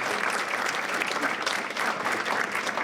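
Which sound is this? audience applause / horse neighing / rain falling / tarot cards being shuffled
audience applause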